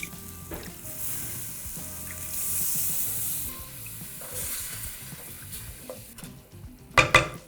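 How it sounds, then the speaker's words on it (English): Shaoxing wine splashes into a hot pan, giving a soft rising hiss that swells and fades over a low steady sizzle, ending with a couple of sharp utensil clatters close by. "I'm going to deglaze that pan with a little bit of Chinese Shaoxing wine."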